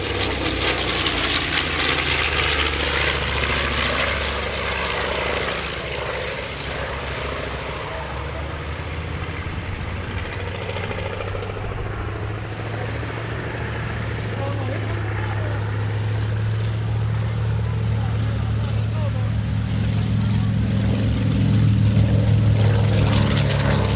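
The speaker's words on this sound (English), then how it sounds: "Talk about a big airplane." Steady, loud engine drone of a large propeller aircraft, a B-25 Mitchell or TBM Avenger, passing near at an airshow, holding for the whole span and swelling slightly toward the end.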